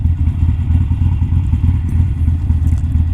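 A Harley-Davidson Sportster motorcycle ridden along a road in the Goyt Valley, its engine giving a loud, steady low rumble with a throbbing texture throughout and no talk over it.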